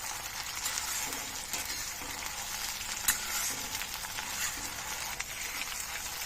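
Pieces of brinjal coated in masala fry in hot oil in a kadai over a medium flame, giving a steady, bright, moderately quiet sizzle with occasional faint stirring scrapes.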